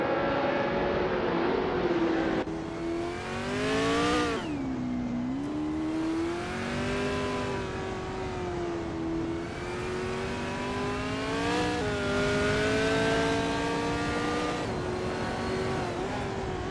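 High-revving race car engines in a racing video game, including an Eagle Mark 5 and a 1966 McLaren M10A, whine steadily and loudly, their pitch rising and falling through gear changes.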